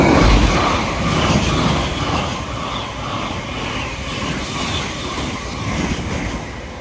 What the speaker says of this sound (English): passing through now is a Thameslink 700 en route from Peterborough to Horsham.